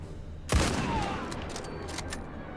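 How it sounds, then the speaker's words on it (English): A single video-game gunshot cracks out sharply across a desert, then rings and echoes as a long fading tail, with a few faint clicks afterward. "did you hear how long that shot rang out into the desert air?"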